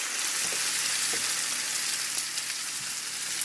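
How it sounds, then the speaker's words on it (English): Vegetable broth splashed into a pan of frying Brussels sprouts, producing a dense, even crackling sizzle with faint scattered pops, steady and close throughout. "I'm gonna throw the vegetable broth in here"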